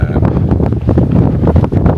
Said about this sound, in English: A little windy, cold